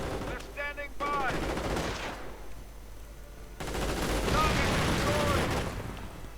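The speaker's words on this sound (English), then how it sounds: "That's quite a bit of automatic fire." Rapid bursts of automatic assault-rifle fire in a 1v1 World War II strategy game match, sharp rattling volleys alongside ricochet-like whines, with a brief quieter gap before the shooting resumes.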